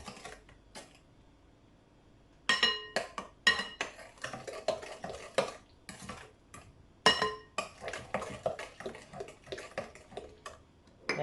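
Banana fritter batter for Jamaican fritters being mixed in a bowl, a close series of quick clinks and taps of a utensil against the bowl in bursts, starting after a quiet moment, with no talking.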